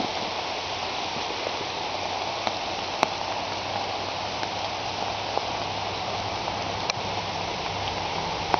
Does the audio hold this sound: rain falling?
yes